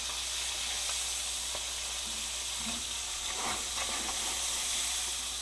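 Brook trout seasoned with lemon pepper fries in a pan, giving a steady, close, broadband sizzle that holds evenly throughout with no talking.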